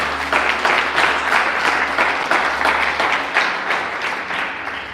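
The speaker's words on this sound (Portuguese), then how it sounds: "Você pode dar um forte aplauso ao Senhor por isso." A congregation claps loudly and steadily for the Lord during a Portuguese-language church service, dense applause filling the room with a low steady hum underneath throughout.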